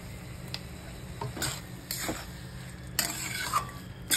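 A spatula stirs kurdai bhaji around a pan, with a few soft scraping strokes over a faint sizzle at close range, spaced irregularly and fairly quiet.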